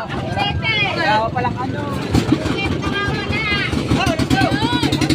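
A motorboat engine runs with a steady rumble beneath loud, excited voices and chatter on board a small outrigger boat, the motor's drone continuing throughout under the talk.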